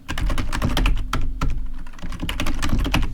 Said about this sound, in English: we are going to type in password for the root user